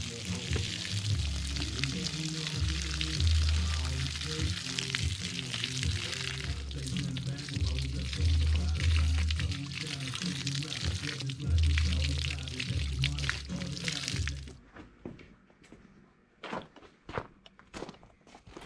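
Low-pressure well water from a hose splashing steadily through a racecar air filter from the inside out, loud and close, with rhythmic surges of spray before it stops and a few knocks follow.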